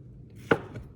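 A single crisp knife chop against a cutting board while dicing an onion for beef stew, one close, sharp tap with a soft second knock just after, no talk.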